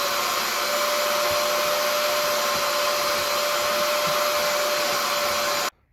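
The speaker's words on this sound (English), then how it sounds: "you want to try to vacuum it dry the best you can to get all that loose dirt out first" A loud, steady vacuum cleaner, a Bissell Little Green Pro, roars continuously with a constant whine while cleaning a cloth car seat, then cuts off abruptly at the end.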